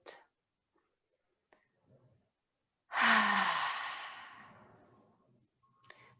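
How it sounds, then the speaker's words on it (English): A deep breath drawn in through the nose and let out through the mouth during a yoga session comes as one long, close, breathy exhale trailing off, with faint small sounds before and after. "taking those few deep in breaths through the nose and out through the mouth"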